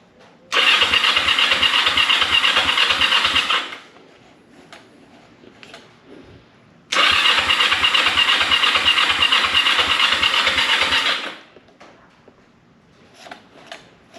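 A Ford LTD with a 454 V8 engine cranks twice with a rapid chugging starter rhythm and loud hiss, each attempt lasting a few seconds with a pause between, close by.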